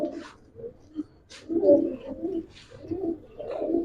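Royal Teddy pigeons, a mated pair, coo softly nearby in a series of low, throaty, rolling calls that come in repeated bursts with short pauses between them.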